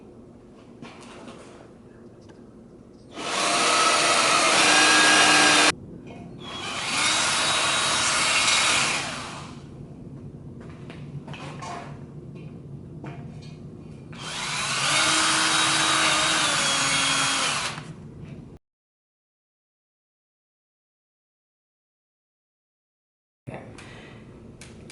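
A power drill with a 1/8 inch bit whirs loudly in three separate bursts of a few seconds each, drilling holes, with quieter handling noise between them and a silent gap near the end.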